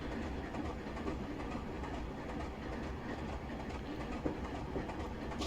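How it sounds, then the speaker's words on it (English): Class 24 diesel locomotive in Train Simulator Classic pulling three carriages from Inverness to Dingwall: a steady, continuous engine drone with rail rumble and faint wheel clatter, unbroken and fairly even throughout. "I do like the sound that these this engine makes."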